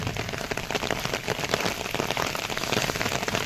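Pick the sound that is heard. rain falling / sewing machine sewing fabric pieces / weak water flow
rain falling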